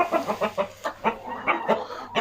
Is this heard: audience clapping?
no